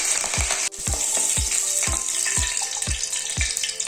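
Curry leaves sizzle in hot oil in a pan over a low flame, a steady bright hiss running throughout with soft, regular dull knocks roughly every half second.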